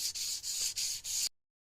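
Sandpaper wet sanding a wood finish in four quick, even back-and-forth strokes, a close, loud hissing rasp, then silence.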